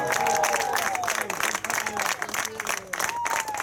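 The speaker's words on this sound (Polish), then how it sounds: "Wielkie, wielkie brawa." Crowd applause for the organisers and security team at the Lednica 2024 youth gathering in Poland, sustained clapping and cheering close by, with a voice speaking over it.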